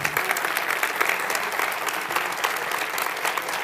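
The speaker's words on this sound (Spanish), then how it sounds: "Un fuerte aplauso para Ricardo Eiriz." Audience applause fills the room after a conference talk by Ricardo Eiriz: dense, steady clapping from many hands, loud and continuous for a few seconds with no voices over it.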